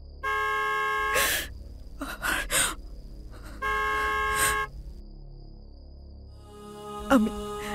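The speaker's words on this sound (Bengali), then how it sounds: "পিছন থেকে একটা গাড়ি হর্ন দিচ্ছিল অনেকক্ষণ থেকে।" A car horn honks from behind in long sustained blasts, loud and near, with gasping breaths between and a quieter stretch before a final breath.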